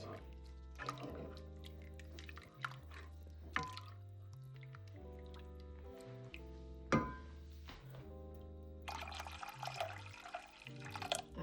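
Water trickles and drips into a pot of diluted coconut milk in uneven splashes, with a few louder plops and a gush of running water near the end.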